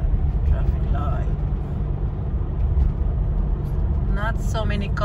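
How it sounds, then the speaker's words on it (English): Passing cars in light street traffic near a traffic light, a steady broadband road rumble throughout with brief tonal squeals near the end, likely brakes. "Not so many cars today."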